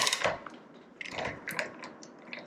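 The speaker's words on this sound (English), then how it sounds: "I've got my ratchet. It's a 11/16, sorry, ratchet deep socket" An 11/16 deep socket ratchet working on a keg fitting gives a few quick close mechanical clicks and ratcheting bursts, alone and fairly loud.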